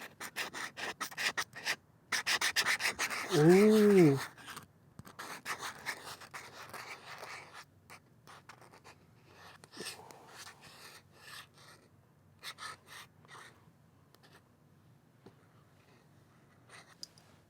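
A stylus scratches and glides across the textured screen of a Supernote A6 X2 Nomad e-ink tablet, close to the microphone, in short bursts of writing strokes with pauses, and a brief vocal exclamation breaks in early on.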